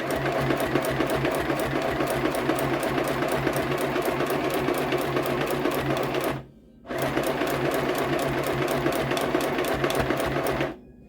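A sewing machine stitches through thick doubled drying-mat material for a pillow, running a fast, even needle rhythm for about six seconds, pausing briefly, then resuming steadily to the end.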